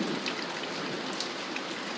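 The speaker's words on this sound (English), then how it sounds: "Can you hear the thunder in the background" Steady rain falls in rural Jamaica, a soft, even patter of drops hitting surfaces, fairly quiet and continuous with no distinct thunderclap standing out.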